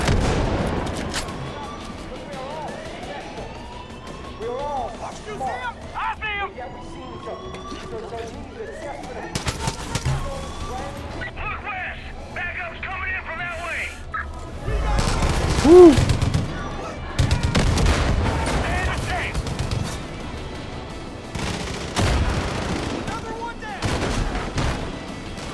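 Gunfire rings out in Far Cry 5 as repeated sharp shots and bursts, some loud and close, mixed with game effects and music while a player talks excitedly over the action.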